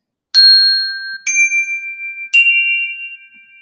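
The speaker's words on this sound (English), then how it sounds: "Inviting the bell." Three strikes of a meditation bell during a live meditation session, each a clear ringing tone that sustains and slowly decays, the strikes about a second apart and heard alone in a quiet room.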